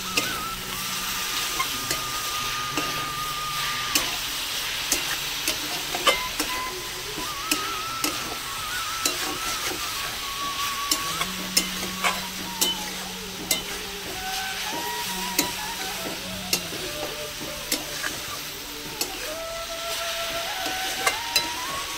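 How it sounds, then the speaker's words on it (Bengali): Fried shrimp being stirred in a pan with cabbage and boiled potato: a soft, constant sizzle punctuated by frequent sharp clicks and scrapes of the spatula, close by, with faint tonal hum underneath and nobody speaking. "এবার আসে ভেজে রাখা চিংড়ি মাছগুলো দিয়ে দেবো আমি। এবার আমি নেড়ে দেবো ভালো করে।"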